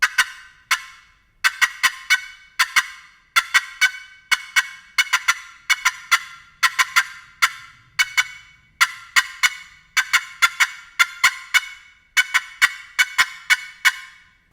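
A hen wild turkey gives an excited cutting call, fast irregular bursts of sharp clucks broken by short pauses, loud and close with no other sounds.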